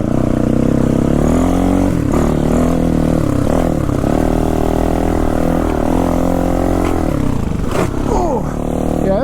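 A motorcycle engine labours loudly and up close through deep sand, its revs rising and falling in surges with brief throttle blips, sustained throughout.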